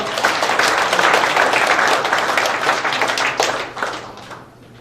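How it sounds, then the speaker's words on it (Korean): Applause from a church gathering audience, a dense steady clapping from many hands that fills the space and then tapers off toward the end. "박수 드리시죠"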